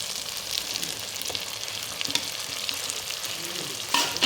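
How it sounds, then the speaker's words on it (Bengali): Turmeric, chili, coriander, cumin and salt frying in a pan with onions for chicken kosha, a steady close sizzle with light crackles and a few stirring scrapes, no voices. "এখন মশলাটাকে আমি ভালো করে একটু কষিয়ে নেব"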